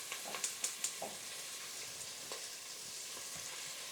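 Bacon and onions fry in a pot over a steady hiss of sizzling, with a few quick scraping clicks of stirring early on, close and moderately quiet, no voices.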